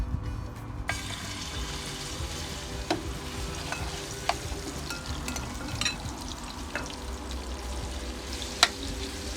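Garlic and ginger frying in oil, a steady soft sizzle with occasional spoon scrapes and taps against the pan, close and fairly quiet, with no voices.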